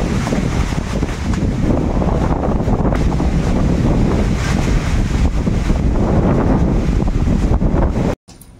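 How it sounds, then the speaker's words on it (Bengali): A stormy wind with heavy rain beside a swollen river buffets the microphone in a loud, continuous roar that surges and rushes. It cuts off abruptly near the end. "ঝোড়ো হাওয়াও উঠেছে।"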